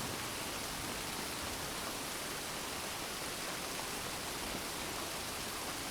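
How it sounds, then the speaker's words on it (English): Steady rain falling, a dense even hiss of broadband noise, constant and unbroken with no voices. "Hear the natural pace of the rain as it changes in speed and weight."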